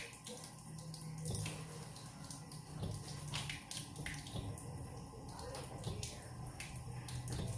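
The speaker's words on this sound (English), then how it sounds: "Here's how you prime your Berkey type filters." Water runs and splashes steadily while a Berkey-type water filter is primed using a primer button, a close, continuous gurgling flow with small spattering bursts.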